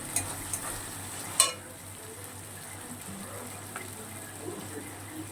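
Spice paste for chole frying in oil while being stirred, a quiet low sizzle broken by a few light scraping clinks of the spoon near the start.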